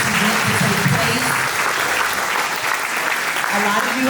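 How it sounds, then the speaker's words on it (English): Inmates and guests applaud at a live event held inside a prison, steady close clapping from a seated crowd with a murmur of voices beneath it throughout. "Let's give a good round of applause for God Behind Bars."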